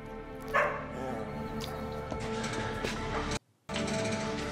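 A dog barks and yips repeatedly in a movie scene, heard through a reaction audio mix with a dense background bed and a brief dropout near the end.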